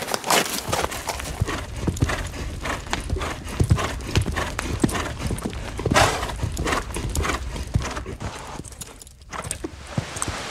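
Trakehner horses at a stud farm, hooves clip-clopping steadily and close on firm ground with an occasional whinny, no talking.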